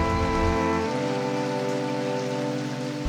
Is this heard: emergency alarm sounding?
no